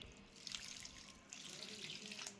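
Flattened rice (poha) being rinsed in water, a steady soft splashing and trickling wash that runs for a couple of seconds at close range, with no talking.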